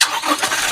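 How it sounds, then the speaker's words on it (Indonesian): A Toyota Innova Reborn diesel engine cranks and catches in one brief, loud burst, with no talk over it. "Suara dari mesin diesel itu sangat menggoda."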